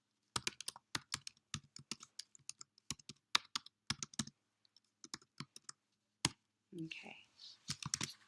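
Computer keyboard typing code, with bursts of crisp, close keystroke clicks in irregular runs, a short pause, and a brief spoken word near the end.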